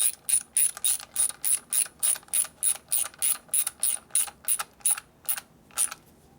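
A hand ratchet clicks in a steady run of about eighteen quick, crisp strokes as it tightens a part on a Harley-Davidson shovelhead stroker big-bore engine, close and clear with no voices.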